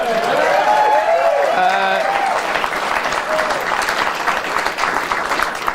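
A television studio audience bursts into loud, sustained applause with cheering, a few voices rising over the crowd at the start before the clapping settles into a steady roar.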